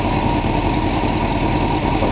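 A warmed-up 1966 Ford Thunderbird engine idles close by with its exhaust running, a loud, steady, even rumble with no revving and no talk.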